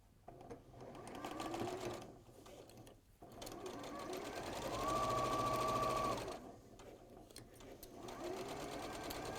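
A domestic sewing machine runs a quarter-inch seam in steady bursts, its motor whirring loud and close, pausing briefly and starting again.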